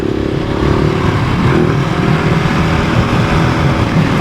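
Off-road motorcycle, a 700 on a shakedown ride through rough, muddy terrain in the Canadian Rockies, its engine droning steadily and loud throughout with rumble and clatter from the trail, no talk.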